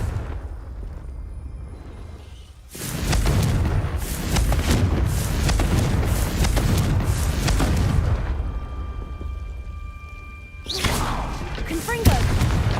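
Repeated Confringo blasting-spell explosions in the Hogwarts Legacy video game, loud booming bursts that roll together over several seconds with crackling debris, fading briefly before another blast near the end.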